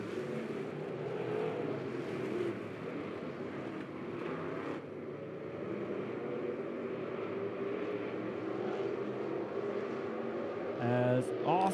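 USRA stock cars race on a dirt oval, a continuous loud, droning engine roar from the pack that rises briefly near the end, with a commentator talking over it.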